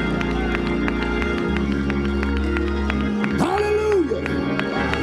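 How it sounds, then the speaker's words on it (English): A church congregation claps along in a steady rhythm at a service, the repeated hand claps sitting under sustained organ or keyboard chords and singing voices. "Come on and clap your hands and act like you know it up in here."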